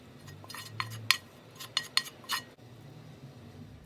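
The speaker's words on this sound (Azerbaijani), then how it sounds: "Üzərindən qovrulmuş əti tökürük." A spoon clinks and scrapes against a baking dish as roasted meat is spread over a layer of eggplant, several light metallic taps in an irregular sequence, quiet and close, with no talking.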